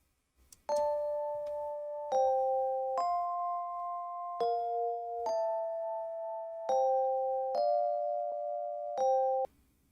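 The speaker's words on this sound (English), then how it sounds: "Then we have this electric, like a third counter melody here. These are all electric pianos." Electric piano playing a third counter melody in an Afro swing beat, a sequence of bell-like sustained notes struck one after another at a steady pace, clear and alone with no talk.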